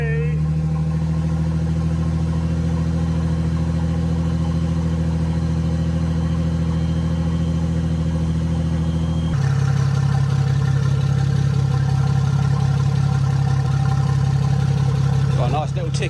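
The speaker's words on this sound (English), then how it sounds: "Got a nice little tick over going to it down, about 700-800 RPM." A V6-powered Mini idles steadily at roughly 700–800 RPM, a loud, close, even rumble with a constant low drone that shifts slightly partway through, while a person speaks faintly over it.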